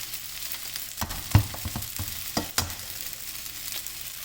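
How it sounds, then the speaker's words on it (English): Eggs stirred briskly into rice frying in a hot pan, a steady sizzle broken by several sharp scraping clacks of the spatula, close and moderately loud. "I want to be aggressive here because I want the egg to coat the rice"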